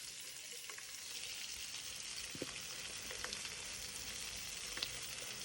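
Food frying in butter in a pan, a steady close sizzle and crackle with occasional sharper pops and faint stirring clicks, no voices.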